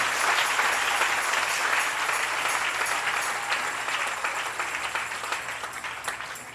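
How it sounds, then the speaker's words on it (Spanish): A church congregation gives sustained applause for the King during a Spanish-language worship service, dense steady clapping that fills the room and slowly tapers off toward the end. "Denle ese aplauso al Rey"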